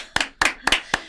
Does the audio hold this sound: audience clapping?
yes